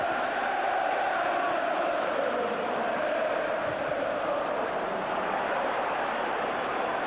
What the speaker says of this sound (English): the noise of the crowd now at White Hart Lane